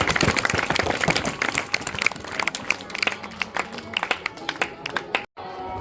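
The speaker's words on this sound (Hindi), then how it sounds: "जोरदार ताली होना चाहिए" An audience claps at a student award ceremony, a burst of scattered, uneven hand claps that gradually thins out into sparse individual claps with background voices.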